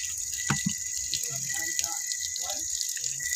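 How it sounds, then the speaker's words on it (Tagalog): Water poured from a container to rinse a tub while cleaning, splashing and gushing in short bursts near the listener over a steady background hiss, with voices faintly audible. "mag-agas naman tubig"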